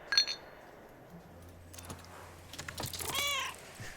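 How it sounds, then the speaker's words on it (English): A stray cat in the video game Book of Hours gives a clear, drawn-out meow near the end, after a short chime-like clink at the start, with soft background ambience. "A cat!"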